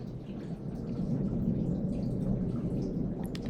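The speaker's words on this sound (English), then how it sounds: "Hope you guys could hear that thunder." Low, sustained rumbling thunder rolls through a Florida storm, a steady deep roar with faint rain-like hiss above it and no voices.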